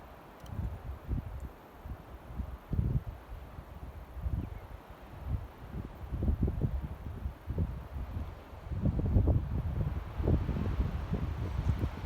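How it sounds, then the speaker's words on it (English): Gusty wind buffets the microphone in low rumbling bursts that rise and fall, growing stronger toward the end, with no voices, at Masonic ghost town. "It is starting to get really windy"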